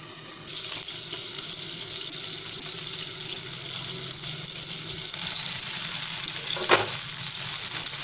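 A potato dhirde sizzles in an oiled kadhai, a continuous even frying hiss that starts abruptly and holds steady, with one faint knock near the end.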